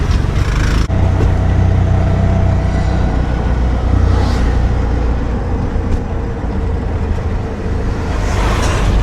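Ride inside an auto rickshaw through Nuwara Eliya, Sri Lanka: a loud, continuous engine drone and road rumble from within the vehicle, with passing traffic swells and no talking.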